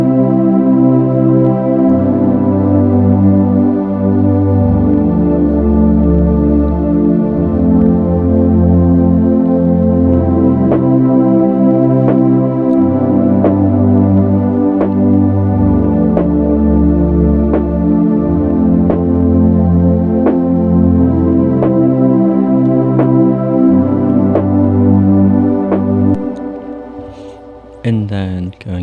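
A dense, sustained synth pad holds steady chords while a snare hits on a regular backbeat, the two combined as the first verse of a beat, loud and continuous before fading near the end, with no talking.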